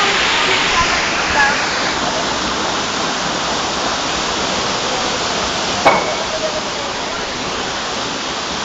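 Lanzones Falls pouring down in a loud, continuous roaring rush of water heard close up, steady throughout with one brief splash or knock partway through.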